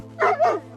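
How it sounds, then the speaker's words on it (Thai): A single dog in a village gives a quick two-part bark, close and clear, over a low steady hum. "เสียงหมาเห่าหอนดังสั่นไปทั่วหมู่บ้าน"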